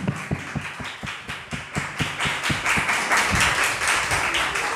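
A church congregation claps together at an Easter Sunday worship service, a dense run of rapid hand claps that stays loud and close and swells into fuller applause toward the end.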